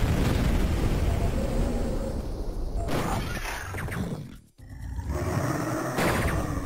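Loud, continuous roaring blasts with crunching bursts, broken by a brief drop near the middle, then more rumbling explosions from the video game Duke Nukem 3D: World Tour.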